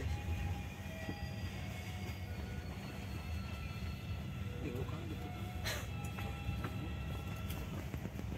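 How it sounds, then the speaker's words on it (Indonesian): The Kahuripan passenger train pulls away from a station, and a continuous rail rumble and wheel noise fill the scene. A brief high squeal and clank come midway, under faint surrounding voices. "Kereta api Kahuripan akan segera diberangkatkan kembali dari stasiun"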